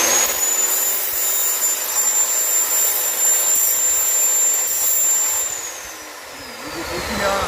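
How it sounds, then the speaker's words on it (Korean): An angle grinder deburring the sharp cut edge of a metal pipe makes a loud, steady high-pitched whine that runs continuously. Near the end it dips briefly and then picks back up. "여기 보시면 요렇게 한 번씩 갈아줍니다"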